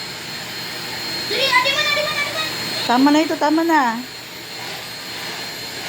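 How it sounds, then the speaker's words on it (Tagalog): A baby pushes a vacuum cleaner around the house, its steady whirring drone running throughout while a voice and adult talk rise over it. "Dati good man mag-vacuum ito na baby, oh."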